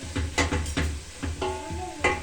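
Grated carrots sizzle in a pan while being stirred, with repeated scraping strokes over a steady frying hiss and a brief clink of a utensil on the pan, close and fairly loud.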